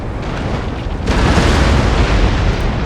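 Ship broadside cannon fire in the Empire Total War naval battle game: a quieter rumble, then a sudden heavy roar of massed cannon that holds loud to the end.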